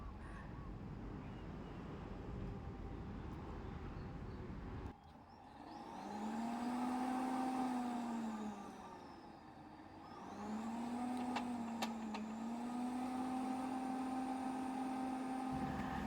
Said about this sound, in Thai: ผม ก็มาทดลองกับพัดลมหอยโข่งดูบ้างนะครับ